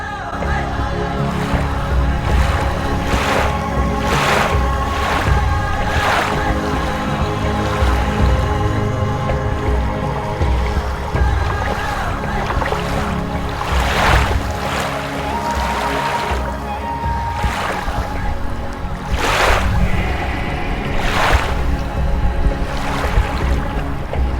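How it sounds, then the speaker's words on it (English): White-capped waves break on a wilderness lake around a canoe, giving a continuous loud wash with repeated slaps and splashes against the hull, roughly every couple of seconds. "I saw the white-capped waves breaking upon themselves"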